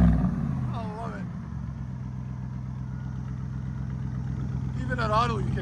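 A RAM truck's 6.4L V8 with a very loud exhaust idles steadily with a low, even rumble throughout, while voices talk briefly near the start and again near the end.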